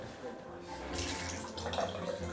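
Water running from separate hot and cold taps in a British bathroom, a soft, fairly quiet splashing that swells after the first second and carries on steadily.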